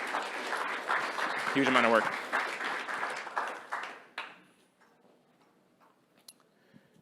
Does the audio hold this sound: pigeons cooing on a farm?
no